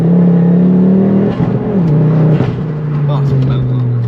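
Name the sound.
Revo Stage 4 Ford Focus ST mk2 accelerating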